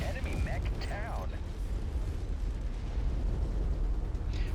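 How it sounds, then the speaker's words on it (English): A mech detonates in the MechWarrior 5: Mercenaries video game, a deep rolling explosive rumble that fills the whole moment while someone talks over it. "Why did that all detonate?"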